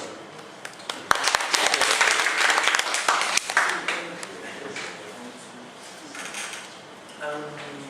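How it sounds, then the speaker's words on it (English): A burst of audience applause, dense clapping that swells and then fades out, with a few voices murmuring near the end. "let's give a big applause to Dr. Vallory"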